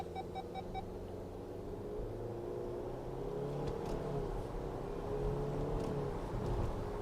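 2026 Chevrolet Captiva (Baojun 530) in manual mode accelerating at full throttle, heard from inside the cabin as a steady low engine rumble and drone that builds slightly, with a few brief beeps at the start.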